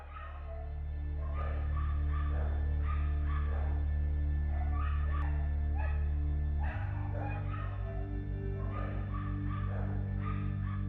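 Dogs bark and yip repeatedly at an animal shelter housing hundreds of animals, a steady chorus of overlapping barks with a constant low hum underneath.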